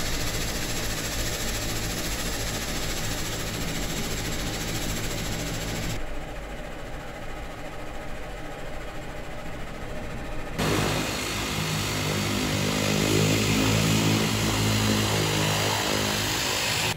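An HS 748 turboprop engine spooling up inside the cockpit, a loud sustained whine and roar with steady tonal hum, dipping mid-way before swelling back stronger.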